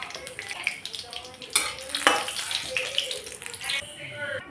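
Dry red chillies sizzle in mustard oil in a wok, a steady crackling hiss broken by a few sharp scraping clinks of a spoon against the pan.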